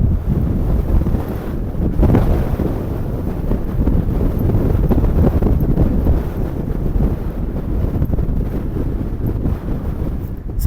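Strong wind on a mountain summit in the Lake District fells roars and buffets hard against the microphone, loud and continuous throughout with no letup.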